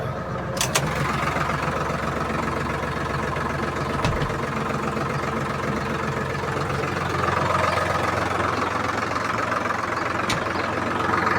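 A tractor engine idles steadily nearby, a low continuous rumble with a few faint clicks and knocks.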